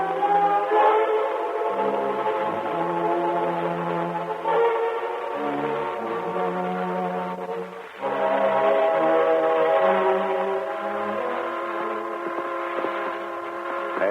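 In an old-time radio drama, an eastbound steam train's whistle sounds in long mournful blasts over a steady chugging rumble of the running train, the effect playing alone at moderate loudness.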